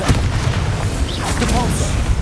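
A heavy booming Bombarda explosion spell from Hogwarts Legacy on PC rumbles continuously at close range, with deep low thuds and crackling debris throughout.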